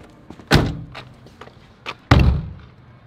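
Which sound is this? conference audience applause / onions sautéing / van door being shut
van door being shut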